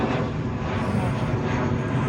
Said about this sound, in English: So you might be wondering why there's so many planes that keep passing by.